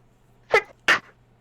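Someone sneezes twice in quick succession, close by and fairly soft, against a faint background hum.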